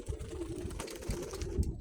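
Homing pigeons coo in a dovecote at dusk, soft low throaty calls rolling continuously and close, with faint rustling and no talk.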